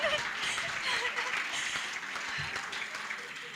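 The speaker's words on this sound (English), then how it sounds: "I would love to get some applause from everyone" Audience applause at the launch of the second phase of the African Girls Can Code Initiative, a steady moderate patter of many hands clapping throughout with faint murmurs and a chuckle mixed in.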